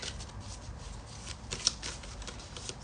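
A deck of oracle cards being shuffled by hand, a steady papery riffling and flicking that runs continuously at close range, with a few sharper snaps along the way.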